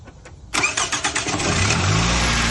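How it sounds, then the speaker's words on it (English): A Toyota Camry with high mileage and a newly replaced coil pack cranks with a few rhythmic starter pulses, then catches and settles into a loud, steady idle close by. "Can you start the car, please?"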